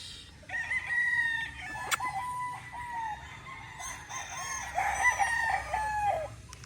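A yellow-legged Dutch gamefowl rooster of the Sweater line crows at a gamefarm in Indang, Cavite, giving two or three long, strained calls close by, with other fowl clucking and crowing in the background.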